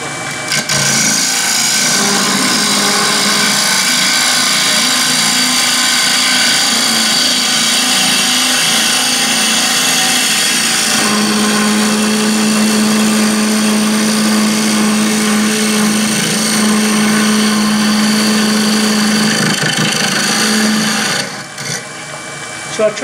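A woodturning lathe cuts a closed form down to a 4 1/2 inch diameter, a loud continuous whirring scrape of the tool on spinning wood that shifts in pitch midway and stops abruptly near the end, with no talk.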